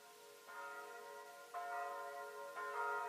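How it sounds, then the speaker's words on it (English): Church-style bells ringing in a radio drama of a city being warned, three clear resonant strikes about a second apart with lingering tonal hum, moderately loud against a quiet background. "The bells you hear are ringing to warn the people to evacuate the city as the Martians approach."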